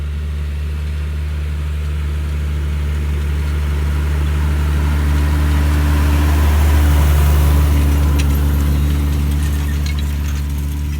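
Tractor engine running steadily during end-of-season wheat sowing in 2022, a deep droning hum with low harmonics that swells slightly midway and holds constant, heard alone without talk.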